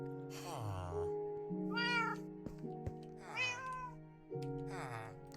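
Minecraft cat meowing four times in a row, each cry clear and close over steady synthetic background music, with short pauses between the calls.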